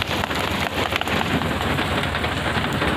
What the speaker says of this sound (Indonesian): Hujan lebat sangat.